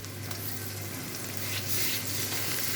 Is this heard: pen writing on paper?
no